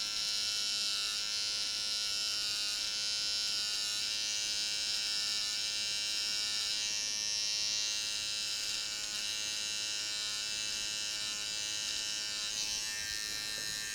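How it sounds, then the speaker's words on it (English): An electric hair clipper buzzes steadily and close by, cutting a man's hair for a disconnected side part with an undercut, its bright hum holding throughout with faint shifts as it moves over the head. "And then I'm going to turn the clipper the opposite direction."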